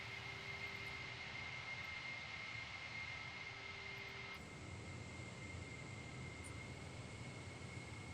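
Simulated Concorde jet engines in Microsoft Flight Simulator 2020 hum steadily at a moderate level, a constant whine layered over a broad rushing roar that shifts in tone partway through.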